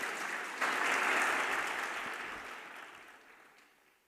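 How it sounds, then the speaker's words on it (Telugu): A church congregation claps together for its devotees, a dense burst of applause that starts suddenly, holds strong for a moment and then gradually fades away, with no speech over it. "అందరు భక్తులకు, భక్తురాళ్ళ కొరకు ఒకసారి గట్టిగా చప్పట్లు కొట్టాను"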